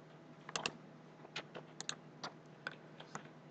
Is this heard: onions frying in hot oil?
no